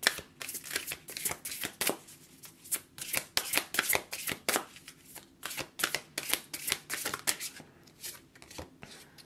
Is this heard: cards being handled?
yes